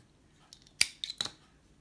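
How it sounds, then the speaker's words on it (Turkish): Scissors snip crochet thread during Turkish needle lace (tığ oyası) work, two or three quick close metallic clicks in a quiet room with no voices. "bir zincir çekip hemen burada ipimi kesiyorum"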